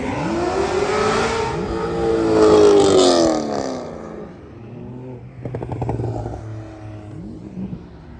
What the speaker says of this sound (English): Wow, a Renault 4 and a 328 GTS Ferrari.